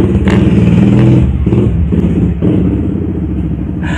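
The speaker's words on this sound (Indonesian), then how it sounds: "motor lagi guys" A motorcycle rumbles past close by, its engine loud and throaty at first and then easing slightly as it moves along, with no talk over it.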